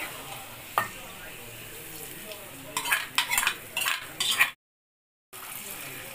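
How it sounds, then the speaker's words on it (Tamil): Hot oil sizzles and crackles in a pan while egg curry is being cooked, with faint stirring and a few metallic clinks of a spoon against the vessel, then a brief dropout before the steady frying resumes. "இந்த பாத்திரத்தில் கொஞ்சம் எண்ணெய் பார்த்தீங்களா எப்படி சத்தம் வருது பார்த்தீங்களா?"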